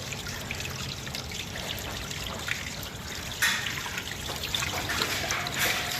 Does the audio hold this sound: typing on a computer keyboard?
no